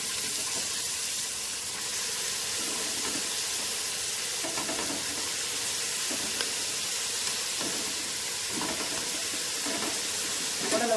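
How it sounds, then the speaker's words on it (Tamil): Goat intestines stir-fried in a pan give off a steady, gentle sizzle, with soft periodic scraping and stirring strokes recurring throughout at moderate distance. "குடலை உள்ளே போட்டு நல்லா பரட்டி விடலாம்."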